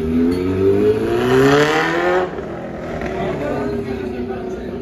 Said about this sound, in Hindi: चाइना की बाइक का ये है शोर ज़्यादा यार